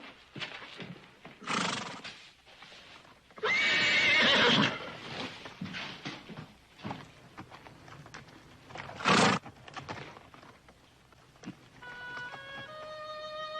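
A horse neighs loudly a few times, with bursts of whinnying between quieter stretches of clip-clopping hooves and shuffling.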